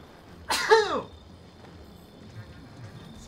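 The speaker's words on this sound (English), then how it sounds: "I need to sneeze" A single sharp, loud sneeze with a short voiced burst, close to the microphone, followed by quiet.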